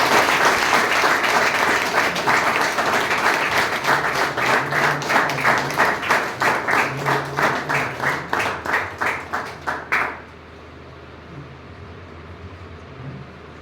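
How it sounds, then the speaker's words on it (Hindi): An audience claps together at a sobriety sharing session, steady loud applause that turns into rhythmic unison clapping, speeds up, then stops abruptly, leaving quiet room tone. "ठीक है दोस्तों, सबका फिर तालियां हिमांशु जी के लिए होता है।"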